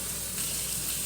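Water pours steadily from a cooking pot through a cracked, leaking lid, making a continuous close hiss and gush that lasts about a second with no break and no talking.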